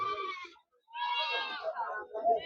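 Goats and sheep, including three-month-old kids, bleat at the Gudur sheep market, two loud wavering cries close by, separated by a short gap, with market chatter faintly underneath.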